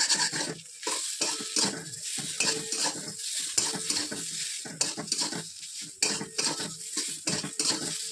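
Spices and vegetables fry in a pan with about a spoonful of oil, close and busy, with rhythmic spatula scraping and utensil clatter over a crackling sizzle.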